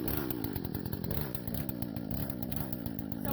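A Husqvarna 120 38cc chainsaw with a 14-inch bar runs nearby at a steady high buzz, its engine note wavering slightly but continuing loud and unbroken.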